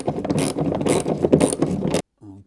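Ratchet wrench loosening a bolt on the sill side panel of a Lotus Elise, a fast busy run of mechanical clicking and clanking, loud and close, stopping abruptly before a brief low thud.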